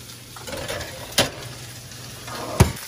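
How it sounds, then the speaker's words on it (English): Brussels sprouts, onions and peppers sizzle steadily in a pan as they are stirred, with two sharp scrapes of the utensil standing out over the continuous frying hiss. "Brussels sprouts and onions and peppers are coming along very nicely. I just keep stirring them up."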